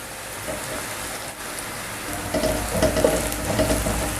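Onions fry in a pan for keema matar, giving a steady crackling sizzle like light rain that grows a little louder midway, close up with no talking.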